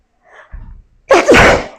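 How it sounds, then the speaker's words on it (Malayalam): A loud, close sneeze bursts out after a short intake of breath, with a faint murmur before it, during home cooking after washing something, alone without talk. "ഭയങ്കര തുമ്മൽ."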